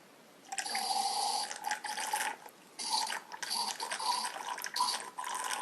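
Red Cabernet Sauvignon gurgles and splashes through an aerator pourer into a glass in uneven bursts, starting and stopping several times, fairly close and quiet.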